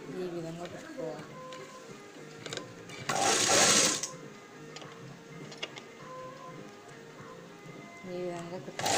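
A sewing machine stitches blouse fabric in short bursts of rapid ticking, with a loud rushing burst near the middle and someone speaking Telugu over and between the runs.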